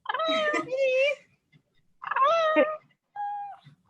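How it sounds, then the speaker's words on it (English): A cat meows twice in drawn-out, wavering calls close by, followed by a shorter third meow, with brief quiet gaps between. "There is a cat."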